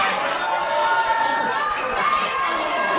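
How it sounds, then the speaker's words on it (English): Crowd at a professional wrestling show, a steady wash of cheering, shouting and chatter filling the hall throughout, loud and continuous with no clear breaks. "Great crowd here on hand."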